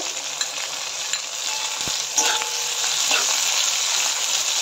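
Carrots and sliced capsicum stir-fry for homemade street-style noodles, a loud continuous sizzle with scraping stirring strokes and a brief metallic clink.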